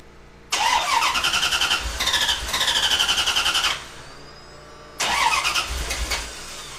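A Corvette C4 cranks with its fuel pump fuse pulled, the starter whirring and droning loudly in two long bursts with a short pause between, then a third burst begins, with no engine catching.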